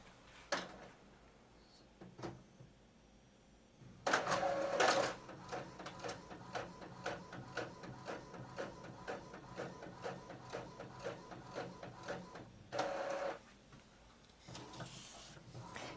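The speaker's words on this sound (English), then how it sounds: "I just let it print." An Epson XP-4105 inkjet printer prints on fabric backed with freezer paper, starting with soft clicks, then loud feeding whirs and a long run of rhythmic mechanical ticks and carriage passes, close up.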